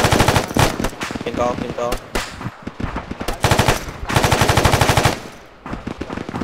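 Rapid machine gun fire in the military shooter game ArmA comes in loud, dense automatic bursts separated by short pauses, with players talking briefly between the volleys.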